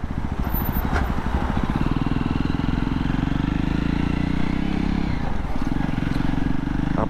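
A Jawa motorcycle engine runs close by with a steady, throbbing low thrum that stays fairly even before easing off near the end, with no talking over it.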